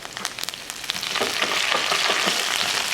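Mustard seeds and curry leaves hit hot oil for an onion chutney, first crackling in quick sharp pops, then swelling into a loud continuous sizzle close by.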